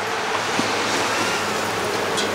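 Hot water pours steadily into a pot holding mutton and offal for a village-style mutton curry, a continuous loud rushing splash with no break and no voices.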